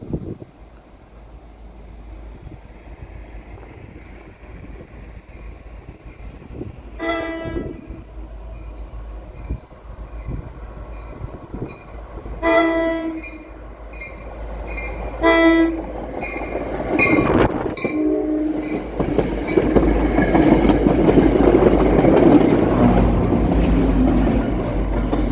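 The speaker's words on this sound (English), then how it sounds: "A Leslie RS3L Horn was added, and it sure does sound nice" An EMD locomotive fitted with a Leslie RS3L horn gives several short blasts and then a longer one as the engine rumbles nearer, building to a loud, close roar of rail noise.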